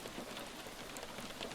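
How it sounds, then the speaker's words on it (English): Rain patters softly and evenly on a roof, a steady, gentle hiss of drops with no voices. "listening to the soothing patter of rain on the roof"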